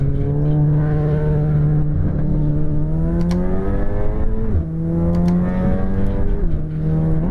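A Golf race car engine in iRacing at Donington, droning steadily as it climbs through the revs, then dropping sharply twice at gear changes before pulling up again, loud and close with no talk.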